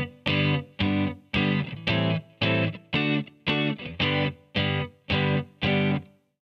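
Electric guitar with distortion and effects strums a 2-5-1 chord progression in G, ending on G, in eleven even, sustained chords that ring loud and close, then cut to silence.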